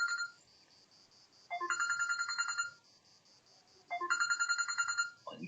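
A mobile phone ringtone rings in two loud, bright melodic bursts separated by quieter pauses, with no talking over it.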